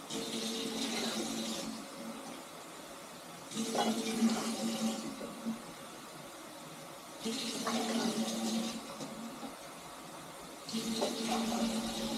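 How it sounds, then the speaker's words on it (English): Water runs from a tap or pours into a pot for cooking rice, in several bursts of rushing, splashing flow lasting a second or two each, separated by quieter pauses. "So we start off about 3 to 4 cups of water."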